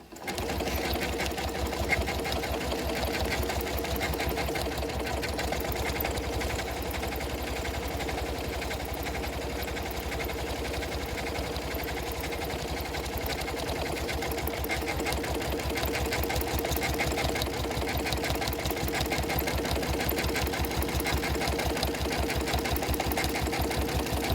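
A sewing machine stitches steadily while quilting layers of fabric, a continuous close, even mechanical whir that runs unbroken from start to end with no talk.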